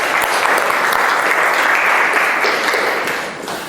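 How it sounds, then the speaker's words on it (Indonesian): Applause from a morning school-workshop audience at SMKN 2 Kota Bekasi, a steady dense wash of many hands clapping throughout, loud and close, tapering slightly near the end. "berikan aplaus untuk kita semua"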